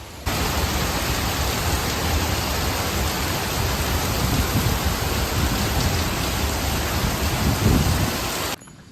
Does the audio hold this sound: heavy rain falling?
yes